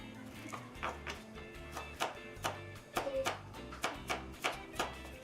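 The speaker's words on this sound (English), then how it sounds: "I'm going to cut carrots into small cubes." Knife chopping carrots into small cubes on a cutting board, a steady series of crisp, fairly quiet taps at an even rhythm, heard up close with no talking.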